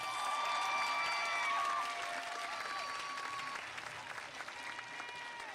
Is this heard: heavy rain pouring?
no